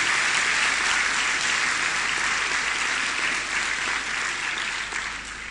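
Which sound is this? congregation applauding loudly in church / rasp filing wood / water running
congregation applauding loudly in church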